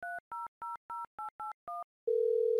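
Telephone in the How To Rob A Gas Station 2 video game: seven crisp dialing beeps in quick even succession, then a short pause and a steady, loud dial tone that cuts off abruptly, with no voices.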